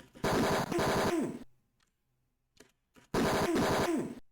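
Loud automatic gunfire from the 1989 video game Tex Murphy: Mean Streets, two long rattling bursts separated by a quiet gap with a few faint ticks.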